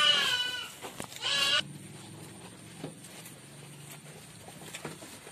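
Goats kept in a pen on a goat farm, with a loud burst of bleating at the start before the sound settles into quieter animal shuffling and pen noise.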